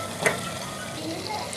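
Masala with red chilli frying and being stirred in a pan for a chicken tinda curry, a soft steady sizzle with one brief clink of a spoon near the start.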